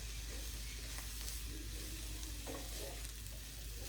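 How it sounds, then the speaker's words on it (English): Mushrooms and garlic fry in a pan while being stirred, giving a soft, steady sizzle with faint scraping from the utensil, close but quiet and unaccompanied by voices. "Stir this around."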